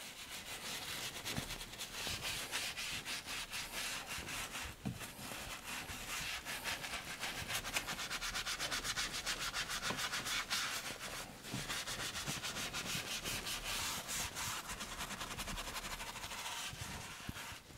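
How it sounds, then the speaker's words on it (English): A stiff-bristled leather-cleaning brush scrubbing a grimy leather steering wheel, a continuous close, hissy scrubbing with rapid back-and-forth strokes that barely lets up. "I'm going to come in with my little bit stiffer bristled color lock brush here, and I'm going to really get in here and agitate it."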